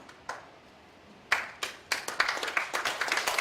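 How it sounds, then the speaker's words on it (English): An audience at a political party launch breaks into clapping: a few scattered claps at first, then a swell of many hands building into fuller, continuous applause. "Yes, you can clap for that."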